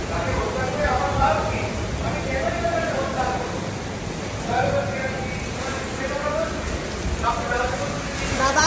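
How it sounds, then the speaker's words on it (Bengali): Rainwater falls steadily near a house, a continuous close hiss of water spattering, with a person talking over it throughout. "মায়া গাছ এখানে জল পড়ছে।"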